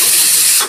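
A pressure cooker on a gas stove gives a loud, steady hiss of whistling steam for most of the moment, then the hiss drops off sharply near the end.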